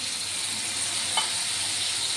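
Tomatoes added to a frying pan for a salted ridge gourd vegetable dish crackle with a steady, close, even sizzle, briefly lifted by a faint stir around the midpoint, with no talking.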